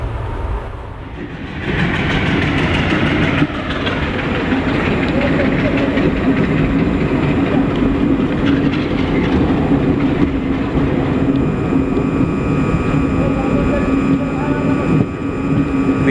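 Steady rumble of the CIRCAR Express passenger train running, heard from inside a coach on the line near Nidadavolu junction, with continuous wheel and rail noise and faint clatter throughout, loud and close.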